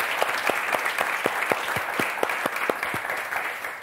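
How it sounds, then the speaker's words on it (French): Studio audience applause on the French word game show Motus, a dense steady wash of clapping with a few sharp individual claps standing out, close and continuous throughout. "On vous applaudit très fort"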